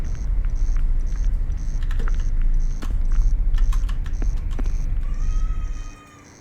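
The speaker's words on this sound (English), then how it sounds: "Sound like a cat." A cat meows in the ghost-hunting video game Among The Whispers, with a short high cry near the end over a steady background rumble, scattered clicks and repeating electronic beeps.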